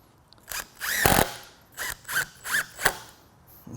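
Power drill driving screws into a roll-up door assembly, several short whirring bursts with rising and falling pitch, loud and close, with no talk.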